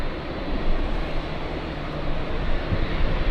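A jet airliner taxis at Los Angeles International Airport, its engines giving a steady, loud broadband roar that holds evenly throughout and swells slightly near the end, with no voices.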